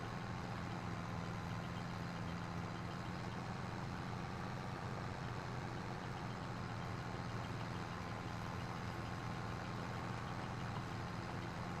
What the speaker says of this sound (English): tractor struggling up this hill though